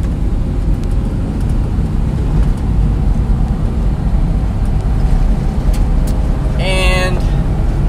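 Daihatsu 4x4 Japanese minitruck on mud and snow tires driving in third gear at about 30 km/h, a steady engine and road drone with wind noise, and a brief tonal squeal near the end.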